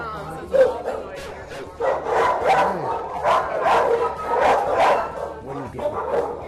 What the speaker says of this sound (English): Stressed out dogs right now. So it's a little bit noisy.